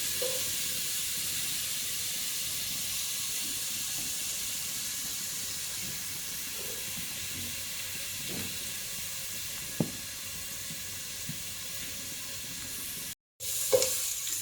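Chicken liver sizzles in a frying pan with a steady bright hiss throughout, occasional soft scrapes and clinks of stirring, and a brief dropout near the end before the frying resumes.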